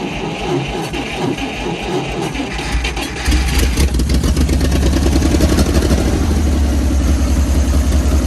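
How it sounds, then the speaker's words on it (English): Engine of a 1955 Dodge M152 military truck starting after sitting, a cranking whir that catches at about three seconds and settles into a loud, steady, low-pitched idle, close by with no talk. "With a whir, the engine came to life."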